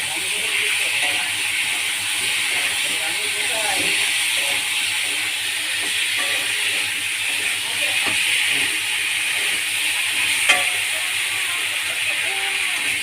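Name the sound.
vegetables with cumin paste being sautéed in a pan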